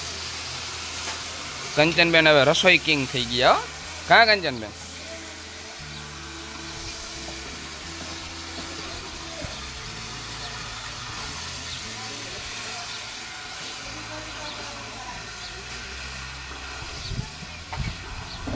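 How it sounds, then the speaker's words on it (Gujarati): Hot oil sizzles as vaghar tempering is added to a mixed vegetable curry of brinjal, tomato, val beans and potato in an ashram kitchen, a steady low hiss continuing alone after a few seconds of talk at the start. "જે આપણા કંચનબેને વઘાર માર્યો બપોરના શાકનો મસ્ત મજાના"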